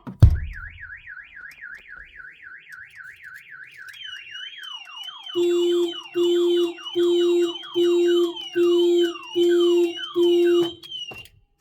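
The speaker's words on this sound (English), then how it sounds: "that was the Starline alarm, and the vehicle horn going off" A Starline S9 camper alarm wails in rapid rising-falling sweeps, then switches to warbling tones while the vehicle horn honks in a steady rhythm of seven blasts.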